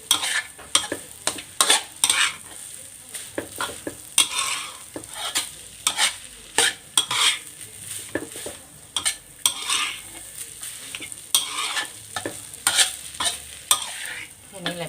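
Fried rice with fermented fish and fried dried fish is stir-fried in a pan, with rapid, rhythmic spatula scrapes and clanks over a steady sizzle, close and fairly loud.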